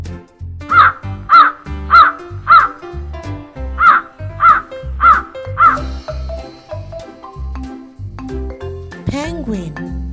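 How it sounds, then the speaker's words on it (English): A raven gives eight loud, evenly spaced caws in a steady rhythm, followed by a single rising-and-falling call, with background music underneath. "Raven."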